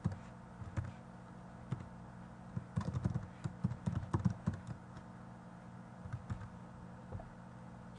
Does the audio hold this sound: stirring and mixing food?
no